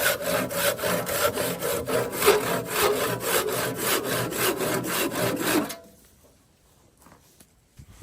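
A hand saw cuts through a wooden tool handle to trim it to about 28 inches, giving quick rhythmic rasping strokes for several seconds before stopping abruptly into near silence.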